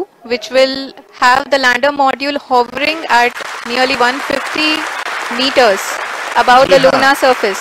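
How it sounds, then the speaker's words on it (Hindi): Applause from ISRO scientists in the mission control room during the Chandrayaan-3 lander's descent to the lunar surface, a steady wash of clapping running under continuous English narration. "आप इस तालियों के गड़गड़ाहट को सुन सकते हैं"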